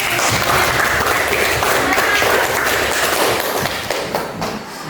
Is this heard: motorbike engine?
no